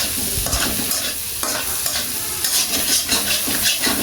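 Garlic and ginger being stirred in melted butter in a pan for Korean-style spicy ramen, a steady close sizzle with repeated scraping strokes of the spoon, no talking.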